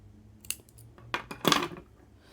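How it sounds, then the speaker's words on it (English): Scissors snip through crochet yarn up close, a quick cluster of two or three crisp cuts around the middle of a short, otherwise quiet moment, with no talking. "Then we're going to tie off our yarn. Just gonna cut it"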